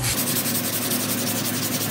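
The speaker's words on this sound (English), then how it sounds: "now we're gonna clean out the letters using a brush" A wire brush scrubs the stamped letters on an old Hay Budden blacksmith anvil, a steady close-up rasping rub that runs unbroken and loud with no talk.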